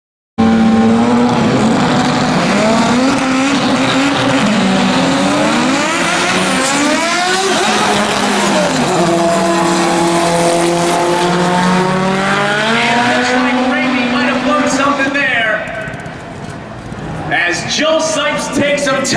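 Drag racing cars at N.C. Dragway roaring down the strip, a loud continuous engine howl with rising and falling pitch sweeps as the cars accelerate away, fading toward the end, with an announcer's voice talking over it.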